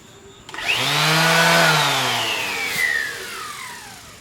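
Power sander working wood porch pieces, a loud continuous whirring drone that starts abruptly, swells and slowly shifts in pitch, close and steady without talk.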